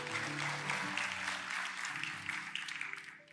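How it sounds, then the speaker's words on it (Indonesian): A church congregation claps steadily through a Sunday worship service, a dense wash of applause over sustained keyboard chords that continue underneath. "Kasih tepuk tangan dong."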